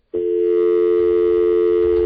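A steady electronic telephone tone begins abruptly and holds loud and unbroken to the end, with a bright pitched hum and faint overtones, no talk over it.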